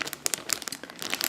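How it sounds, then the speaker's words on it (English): Thin plastic bag crinkling in irregular bursts of crisp rustles close by, used to hold scraps of bulky crochet yarn. "I keep mine in a plastic bag"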